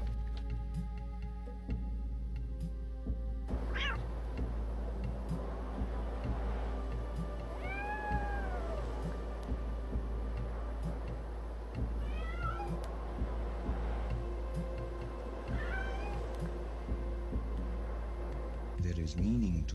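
Several short meows from a cat character in a video game, rising and falling chirps scattered through a steady low hum and background game music, with a person talking over much of it.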